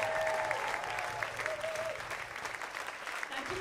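A ballroom audience applauds salsa dancers at the close of their performance, with a thick, sustained wave of clapping and crowd noise, a faint tone drifting through and some voices mixed in underneath.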